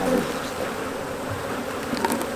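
Honey bees buzz steadily around an open beehive during hive maintenance, with a dense close humming drone that holds throughout and no voices.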